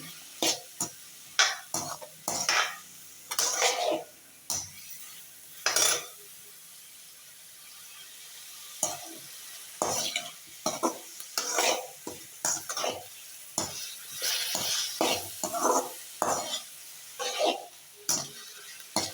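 Onions and tomatoes being sautéed in a pan, with bursts of scraping and clattering as a spoon stirs them repeatedly over a quiet background sizzle, pausing briefly in the middle.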